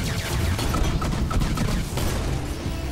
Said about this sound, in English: I'm getting hit by 2 snipers